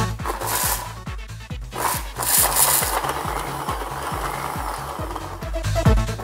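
An electric grinder grinds neem seeds and leaves with a loud, steady rasping whir and a regular knocking rhythm throughout, with no talking.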